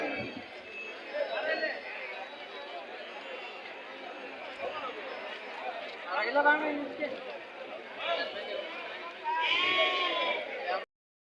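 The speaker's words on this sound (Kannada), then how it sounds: "ಇಲ್ಲಿ ಜಾಸ್ತಿ ಮೇಕೆಗಳು ಬರ್ತಾವಲ್ವಾ ಹಾಗಾಗಿ" Repeated bleating from several goats rises above a steady crowd murmur at a weekly Tuesday livestock market, with louder bursts toward the end amid background chatter.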